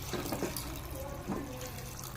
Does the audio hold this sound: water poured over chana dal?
yes